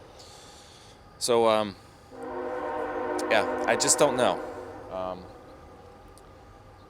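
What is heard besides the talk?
train passing by, very loud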